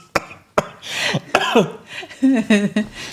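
A few sharp coughs burst out close by, spaced irregularly, followed by a voice making a short strained vocal sound.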